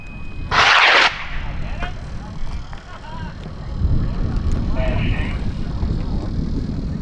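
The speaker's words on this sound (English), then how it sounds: "Let's go ahead and launch Jonathan's rocket" A high-power rocket launches at Airfest 29 in Argonia, Kansas, with a sudden, loud hissing burst of ignition, then a distant, building roar as it climbs. Faint voices and wind noise come through at times.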